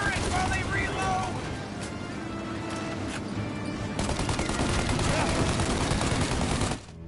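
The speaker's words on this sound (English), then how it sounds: "Now, shoot the gun." Gunfire in the video game Mafia: dense, continuous bursts of shooting that sound like rapid volleys, loud and sustained across the whole stretch before cutting off abruptly at the end.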